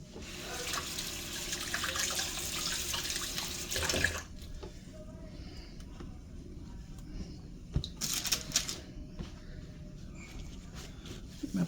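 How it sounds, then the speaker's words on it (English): Hands washed under a running kitchen tap while making candy, a steady close rush of water for about four seconds, then quieter splashing and trickling with a brief burst of flow later on. "let me get my hands washed again."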